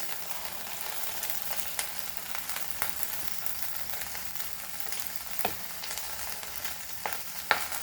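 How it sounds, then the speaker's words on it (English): Onion frying in a pan for a Goan okra dish, a steady hissing sizzle with faint spatula scrapes and a few sharp clicks, no voices. "And now we will add our onion to this."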